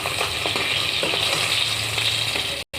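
Fish frying in oil until reddish gives a steady close sizzle with small crackles and a light rattle. It cuts off abruptly near the end.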